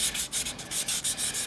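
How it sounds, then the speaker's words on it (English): Sandpaper rubbed back and forth over bonsai pruner handles in a close, steady rhythm of rasping strokes, roughly ten passes, with no talking. "the sandpaper just glides over them"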